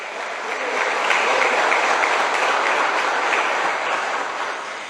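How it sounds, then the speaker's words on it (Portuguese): Church congregation claps loudly and continuously, a dense sustained wash of applause swelling in and holding steady before easing slightly at the end. "Aplauda Jesus bem forte"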